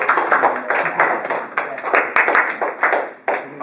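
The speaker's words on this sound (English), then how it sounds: "we should be giving a hand clap to Mr. Boston." A small group claps hands for a guest speaker at a middle school, a brisk run of close, crisp slaps in an irregular rhythm, with no talking over it.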